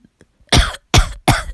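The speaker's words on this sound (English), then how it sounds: "The coughs of Neji" Three harsh, close coughs in quick succession, loud and dry, with a couple of faint clicks before them, part of a narrated anime-style story sound effect.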